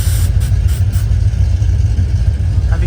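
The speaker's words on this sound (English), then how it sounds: "First nitrous run." A drag race car engine on a nitrous run at a duct tape drags event, a loud continuous low rumble with a steady deep throb and no clear rise or fall.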